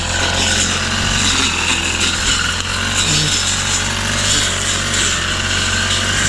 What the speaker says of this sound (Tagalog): Isa lang yung gamit namin grass cutter.